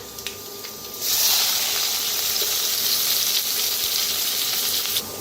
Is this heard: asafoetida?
yes